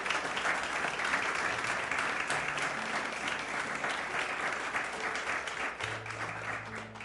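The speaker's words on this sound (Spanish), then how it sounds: "Denle un aplauso a Dios por eso que Él le da." A church congregation applauds during a sermon, a continuous wash of clapping heard from a distance, fairly soft and fading slightly toward the end as a low hum comes in.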